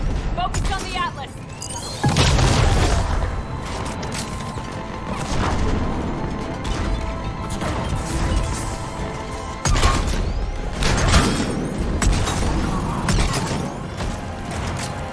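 Heavy cannons fire in the Mass Effect 3 Legendary Edition mission on Omega, booming blasts and crashes landing every few seconds over a continuous mechanical din of combat.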